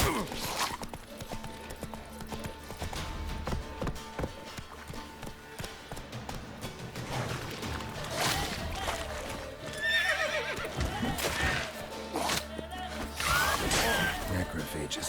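A horse in the video game The Witcher 3 gallops with rapid, rhythmic hoofbeats and gives several loud neighs and whinnies over a busy, layered game soundscape.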